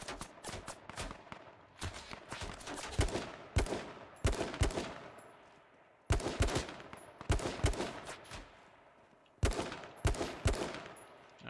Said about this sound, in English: None of these shots are hitting.